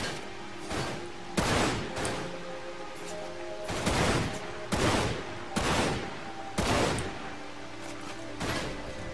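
Gunfire in the game Dirge of Cerberus comes in repeated sharp bursts, roughly a shot or short volley every second, loud and close against a quieter background.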